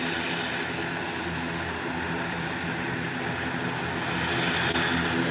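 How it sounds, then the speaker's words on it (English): British Airways airliner on the runway taking off, a steady loud engine roar with broad rushing noise that builds slightly, heard from nearby without talk. "This is going to be a beautiful takeoff."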